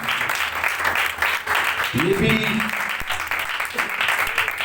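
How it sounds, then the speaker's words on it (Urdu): A church congregation claps in praise during a Urdu sermon, dense steady applause filling the room while a voice speaks briefly over it. "زوردار تالیاں کون سی ہوتی ہیں؟"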